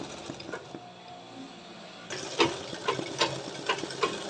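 An embroidery machine stitches a flower petal with a quick, rhythmic mechanical ticking. It starts soft and becomes louder and more distinct about halfway through, with no voices.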